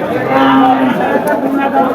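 A cow at a cattle market lets out a loud, drawn-out moo nearby, with a second lower call after it and faint crowd murmur behind.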